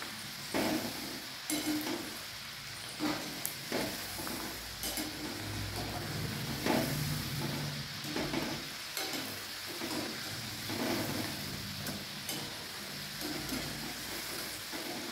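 Shankarpali Diwali sweets fry in hot oil with a steady, quiet sizzle, broken by repeated soft scrapes and clinks as they are stirred in the pan.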